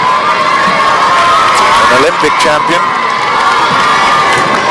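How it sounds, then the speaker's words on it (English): Crowd in a badminton arena at the 2006 World Championship, cheering loudly and steadily throughout, with a short swell of shouts midway; a commentator speaks over the noise. "you can hear the crowd this time are a little bit distracted because they're looking at a game that's on an adjacent court"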